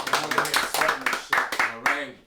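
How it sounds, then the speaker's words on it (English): A small podcast audience gives a brief round of applause, with a few distinct, uneven claps fading out while people keep talking over them. "Round of applause for the chat today."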